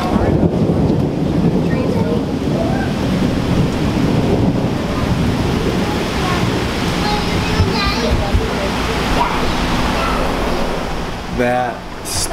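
Summer thunderstorm thunder rumbles low and continuously overhead, mixed with heavy wind noise buffeting the microphone, and a brief sharper crackle near the end.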